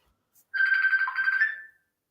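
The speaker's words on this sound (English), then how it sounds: "he's got a phone call" A phone ringtone chimes once, a bright electronic melody lasting about a second and then fading out, heard alone against silence.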